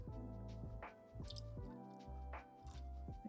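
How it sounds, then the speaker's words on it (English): Water trickles and drips faintly into a spider's enclosure, with soft wet squishing sounds arriving in an uneven rhythm, close by and quiet. "I'm going to fill up the water now."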